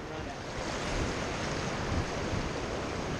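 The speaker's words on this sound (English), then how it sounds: "How big of a rapids would that be considered needle?" Class five whitewater rapids on a river run known as Ned's Needle, a loud, steady rushing roar of churning water that fills the whole stretch without letup.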